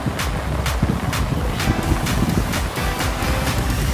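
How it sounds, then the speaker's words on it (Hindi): Strong floodwater from heavy monsoon rain rushes through a culvert beside an eroding river, a loud, constant roar with repeated surging bursts. "यहाँ पर देखिए कितनी धार तेज जो इस पुलिया के अंदर जा रही है"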